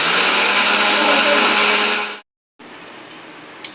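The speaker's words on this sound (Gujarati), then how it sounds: "તો ફટાફટ ચાલુ કરીને ખાંડ દળી દઉં" A mixer grinder pulverising sugar roars with a loud, steady high whine, then cuts off abruptly into brief silence before a quieter hum resumes.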